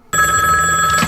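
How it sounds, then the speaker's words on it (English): A telephone bell rings once, loud and close, with a bright sustained trill after a brief moment of quiet. "That's the phone."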